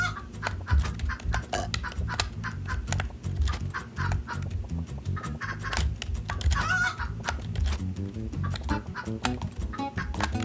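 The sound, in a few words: chicken clucking in video game Turnip Boy Commits Tax Evasion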